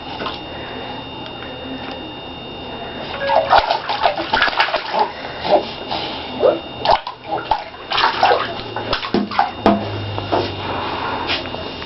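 A baby splashes in bath water, close and lively, with irregular slaps and sloshes that pick up in the second half while an adult speaks softly over the splashing.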